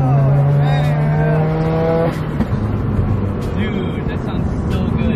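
Full bolt-on Subaru WRX engine revving hard then dropping to a rough, throaty idle, loud and close, with a voice talking over it.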